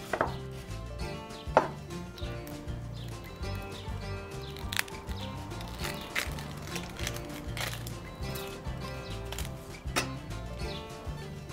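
A knife chops a peeled onion into small pieces on a cutting board for a tomato sofrito, giving steady, rapid close taps that continue throughout with no talking.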